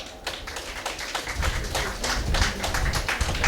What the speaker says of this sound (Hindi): आप सभी जो सुनने वाले हैं, श्रोता हैं, वो भी ज़रूर मैं चाहूँगा अपने लिए तालियां बजा दें